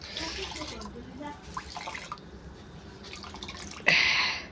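Water runs and drips from a tap during household cleaning, a soft close splashing that ends in a brief louder gush, with a voice speaking softly over it.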